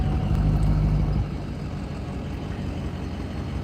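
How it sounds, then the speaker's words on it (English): A car engine idles from inside the cabin, a low steady rumble that is louder for the first second before settling into a quieter, even hum. "This car is too loud to live stream in and have the engine on."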